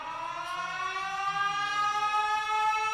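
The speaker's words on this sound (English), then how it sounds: "Where's my goddamn siren?" A loud civil defense siren wailing with a steady, rising tone, sustained throughout without pause.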